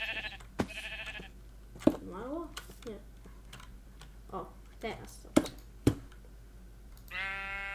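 Sheep bleating in the Minecraft video game, with a few short bleats at the start and again near the end, amid sharp keyboard and mouse clicks while someone talks.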